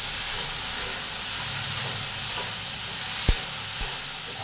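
Onions fry in a pan with a continuous hissing sizzle, close and even, broken by a couple of sharp utensil knocks near the end.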